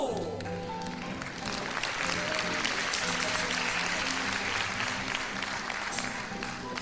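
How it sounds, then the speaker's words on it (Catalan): An audience at a falla celebration in Xàtiva, Valencia, applauds a poet with steady, dense clapping that holds for several seconds, while voices murmur faintly beneath it. "Un fort aplaudiment per a l'eximi poeta"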